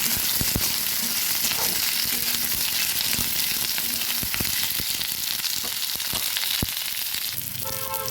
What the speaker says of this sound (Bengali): পেঁয়াজটা কিছু ভাজা হয়ে এসেছে।